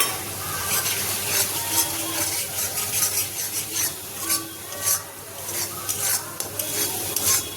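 Spices with tomato, green chilli, ginger paste, turmeric and Kashmiri chilli powder cook down in a pan for paneer masala, a quiet sizzle under steady scraping and rubbing strokes of a spoon, close by, without speech.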